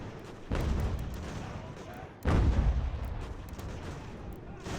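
Artillery cannon fire in the strategy video game Ultimate General: American Revolution, two loud booming volleys a couple of seconds apart, each followed by a rumbling decay.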